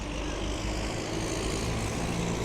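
Loud tractors drive through the middle of Minsk, a close, steady engine drone with deep low rumble that holds level throughout with no talking.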